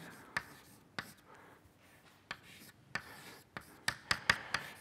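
Chalk or marker strikes a lecture board as a physics equation is written out, making sharp taps and short scratchy strokes at irregular intervals that cluster faster toward the end, close and moderately quiet.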